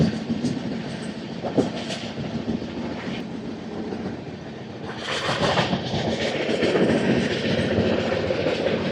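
Andhra Pradesh Superfast Express 20805, run by East Coast Railway from Visakhapatnam to New Delhi, rolls along the Kazipet–Palasa tracks with a steady, loud broadband rumble and rattle that swells stronger in the second half.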